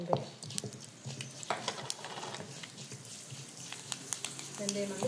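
Fenugreek seeds fry in a little oil in a pan after dried chillies and coriander were roasted, giving a steady close sizzle with small crackles and pops and occasional stirring scrapes.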